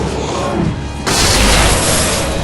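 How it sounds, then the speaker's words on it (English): A flashbang detonates in the video game Alan Wake: a sudden loud broadband blast about a second in, followed by a sustained roaring wash of noise, preceded by dimmer background rumble. "Alright, throw your flashbang."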